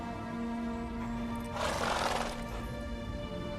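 Roach, Geralt's horse in The Witcher 3: Wild Hunt, gives a loud, close whinny lasting about a second over a steady hum of game music and ambience.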